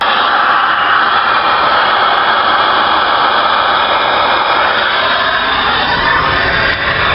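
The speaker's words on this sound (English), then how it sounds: "I'm blowing compressed air into the number 1 cylinder, and it's coming right out the number 2 cylinder spark plug hole." Compressed air hisses steadily and loudly through a hollowed spark plug fitting into the number 1 cylinder of a 1970 Mach 1 engine, escaping from the adjacent number 2 spark plug hole, with no talk.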